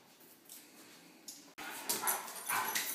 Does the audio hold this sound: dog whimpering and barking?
yes